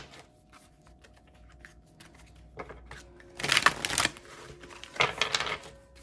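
Tarot cards are shuffled in a pick-a-card reading, heard as soft, close riffling and flicking bursts: a light patter, then two louder shuffling runs near the end, with no voice.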